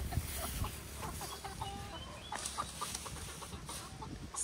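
Chickens in a rural backyard coop cluck and chatter softly at a distance, with faint scattered bird calls and no talking.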